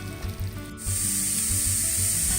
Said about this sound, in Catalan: fem un sofregit de ceba tendra i pastanaga